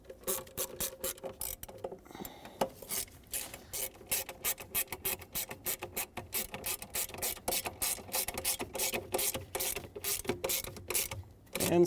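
Small 7mm-headed screws are ratcheted in, fixing a plastic bracket to a metal bracket on a 2000-2005 Ford Excursion during hood release cable work. Rapid, steady clicking runs continuously at close range with brief pauses.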